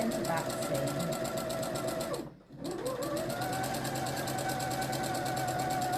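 A sewing machine stitches the centre back seam of a party skirt, running as a steady close whirr that dips briefly midway before picking up again, with a faint voice underneath.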